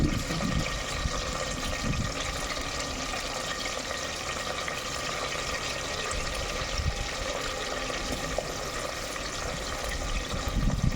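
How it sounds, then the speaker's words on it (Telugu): Two onions just added to a pan with a generous amount of oil for a mango chicken gravy, making a loud, dense, continuous sizzle and hiss close up, with no voices. "సో ఇప్పుడు ఆనియన్స్ వేసుకుంటాను."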